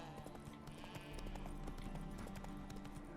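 Horse hooves clop steadily at close range, with a faint whinny mixed in, from The Witcher 3: Hearts of Stone game audio.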